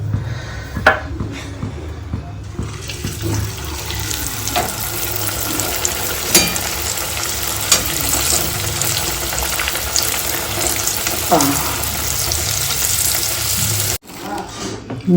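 Pea-stuffed kachoris fry in a wok with a continuous crackling sizzle, joined at times by running tap water and faint kitchen clatter, with no talk.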